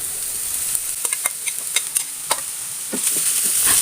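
Ground fish stirred into softened onions in a pan for fish balls, with a quiet sizzle and a run of sharp spoon clicks and scrapes, and the frying growing brighter near the end.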